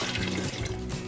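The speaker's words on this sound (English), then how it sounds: "we put water into the canner." Water pouring into a canning pot: a steady, full splashing gush, close and continuous for about a second, with no voices.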